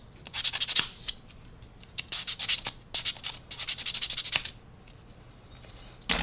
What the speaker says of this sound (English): give it another quick sand